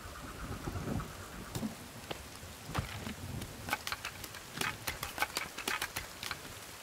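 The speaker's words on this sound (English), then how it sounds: "Oh, we got a storm coming in." A rainstorm moves through the forest in The Forest video game, with steady rain hiss and a series of sharp cracks and rumbles of thunder, some clustered closely together, heard without talk.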